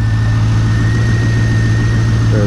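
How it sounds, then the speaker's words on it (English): A 1999 Chevrolet C5 Corvette engine idles steadily up close after warming up, a loud, even low rumble with a constant hum and no talking. "See the engine running."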